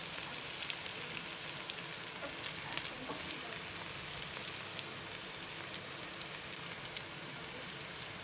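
Okra frying in a pan as onions go in, a soft continuous sizzle and crackle like light rain, faint and steady throughout with no voices.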